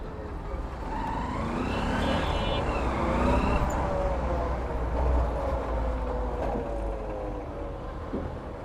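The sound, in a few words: helicopter-like noise coming from a motorcycle during a ride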